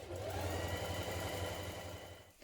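A sewing machine runs gathering stitches along a sweatshirt sleeve, giving a steady, fast mechanical whir with rhythmic pulsing that slows and stops near the end.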